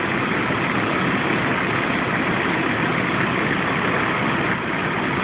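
A 1998 Chevy Blazer engine idles steadily with its AC compressor engaged, producing a constant, loud broadband hum and drone that runs without a break and carries no speech.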